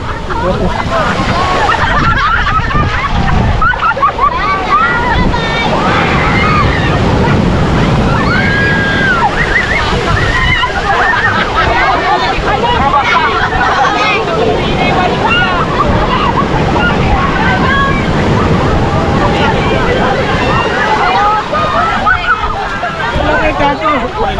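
Loud, continuous roar of heavy ocean surf and wind at the beach in Dingalan, Aurora, Philippines, with crowd voices mixed in throughout.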